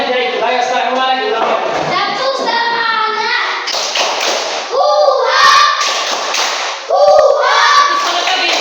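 A class of young schoolchildren repeats the 'tepuk semangat' clapping chant, bursts of sharp hand claps breaking through continuous loud group chanting and voices.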